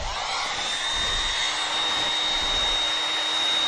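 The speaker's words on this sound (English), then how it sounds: "If not, use a heat gun and warm that up." Heat gun blowing to warm a lawn tractor cap, a continuous close, loud airy fan roar with a steady high whine, unbroken throughout and no voices.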